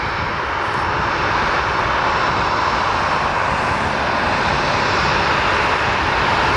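An aircraft engine roars at the Portland airport runway in bad weather, a loud, continuous broadband drone that holds steady throughout with no speech.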